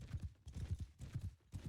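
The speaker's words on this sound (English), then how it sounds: "Cloney being Horse Archer" Hooves of a horse archer unit in a medieval strategy video game clip-clop in a quick, steady rhythm, faint and muffled.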